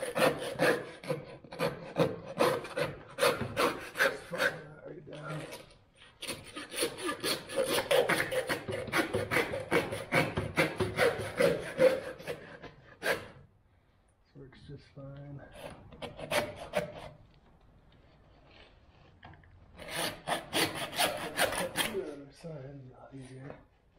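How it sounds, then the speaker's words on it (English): Meat saw cutting through a large pig carcass during home butchering, a rapid rasping back-and-forth stroke that runs in long bursts with short pauses, close and fairly loud, with some talking mixed in. "we'll just use the meat saw"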